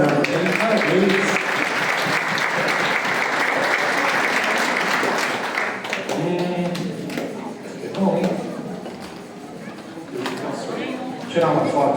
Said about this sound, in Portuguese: Uma salva de palmas, cara.